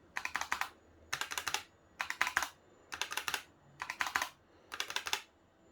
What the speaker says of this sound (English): so this was my sound test of all three keyboards